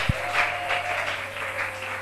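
A church congregation applauds Jesus Christ during a French-language sermon, a continuous burst of clapping from many hands, moderately loud and sustained through the brief moment.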